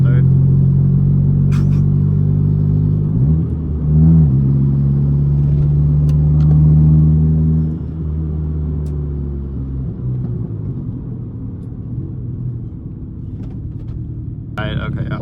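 A turbocharged 1995 Honda Del Sol rumbles from inside the cabin, engine note rising and falling through gear changes, loud and steady while people talk over it.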